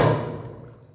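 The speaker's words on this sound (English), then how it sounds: "A big explosion." Hydrogen gas bubbles catch fire from a burning candle flame, giving a single close, muffled pop at the start that fades away quickly.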